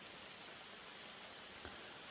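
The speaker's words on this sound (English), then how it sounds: "as you may or may not be able to hear, it's getting a little more serious about raining now" Steady rain falling in a forest during a backpacking trip in the Quehanna Wild Area, a constant hiss of drops with no talk and one faint brief tap partway through.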